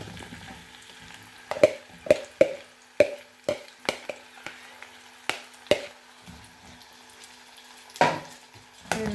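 Raw plantain and other ingredients tipped into a hot pan for a fish-free curry: a series of sharp clatters and plops over a faint background sizzle, close and irregular.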